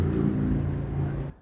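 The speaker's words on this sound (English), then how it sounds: "It's like trucks and aeroplanes going past at the same time, making so much noise outside." Traffic of trucks and aeroplanes passing outside, a loud, steady low rumble that fills the clip and then cuts off abruptly near the end.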